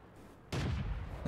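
A single artillery gun fires in World of Tanks, a sudden heavy boom that cuts in after a quiet moment and rumbles on, moderately loud and alone.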